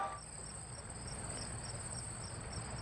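Steady cricket chirping rings out alone as a comic gag while a comedian bombs on stage, the pulsing insect trill repeating evenly at a moderate, even level with no talk over it.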